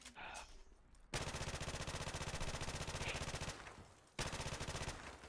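Automatic fire rips at hidden props during a prop hunt round in Modern Warfare Remastered: two long, loud, rapid-fire bursts with a brief pause between them, close up and without speech.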